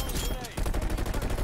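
Rapid automatic fire from the Bullfrog submachine gun in Call of Duty: Black Ops Cold War, a dense close stream of shots crackling throughout the short burst.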